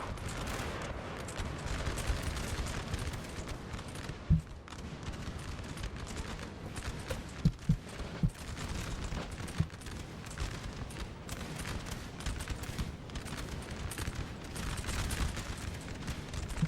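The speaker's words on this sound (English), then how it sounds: "Oh, they have artillery as well. Ooh, that's gonna hurt." Artillery fire in a Napoleon Total War battle: scattered distant booms and musket crackle roll over a dense battlefield din, with a few sharper reports standing out at irregular intervals.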